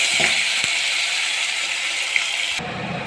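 Onions and green chillies fry in a pan with oil and whole spices, giving a dense, continuous close sizzle with a couple of small clicks. The tone shifts abruptly near the end.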